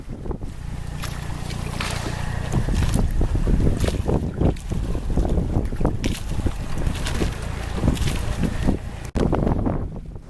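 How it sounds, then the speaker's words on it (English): Steady wind roars across the microphone aboard a sailing boat in a freshening breeze over low swells, with water rushing and sloshing against the hull throughout, loud and continuous. "The breeze continues to freshen, and we come into some low swells rolling across the sound."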